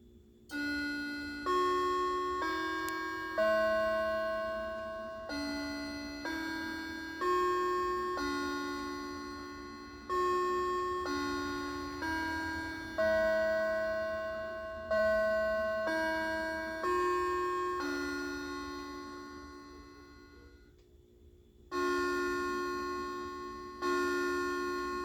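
Old chime box in a schoolhouse regulator clock sounds a sequence of struck metallic chime notes, each ringing and decaying, played in groups with short pauses between phrases, close and alone.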